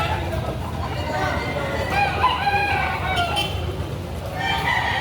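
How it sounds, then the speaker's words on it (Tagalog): Chickens and roosters at a livestock market in the rain, with several crows and clucks rising over crowd chatter and a nearby voice talking. "Meron pa rin po kayo dito mga manok dito."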